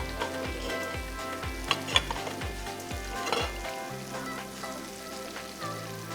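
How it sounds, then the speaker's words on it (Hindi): Pieces deep frying in hot oil give a continuous bubbling sizzle with a few sharper pops, heard close over steady background music, with no talk. "ये फ्राई जब हो जाते हैं, सरफेस पे आ जाते हैं"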